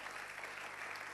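Steady applause from a church congregation praising God, a soft, continuous wash of clapping that holds evenly throughout, fairly distant and low in level, with no voices standing out.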